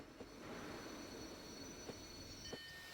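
A train rolls along in a railway tycoon video game, a faint steady rumble of wheels with a few brief clicks and a thin high squeal, no talking.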